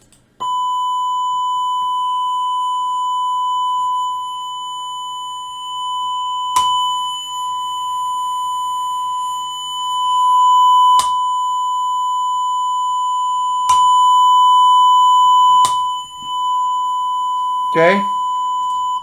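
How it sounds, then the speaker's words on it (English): A steady 1000 Hz test tone plays through Bluetooth receivers, a Harman Kardon and a Blue Dento, holding loud and unbroken across the whole stretch, interrupted only by a few brief sharp clicks and a short chirp near the end. "1000 hertz test tone."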